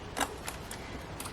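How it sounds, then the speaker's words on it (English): Scissors snip through paper for an art journal collage, a few short crisp cuts close by with quiet pauses between them. "I feel like I want to cut a bit of that off."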